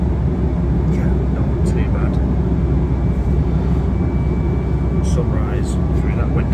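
Inside a Ryanair airliner cabin in flight, a constant loud low engine and air roar fills the space while someone talks over it.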